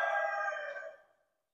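A rooster at a German breed poultry show crows once nearby, a bright, harmonic call that fades out after about a second and leaves silence.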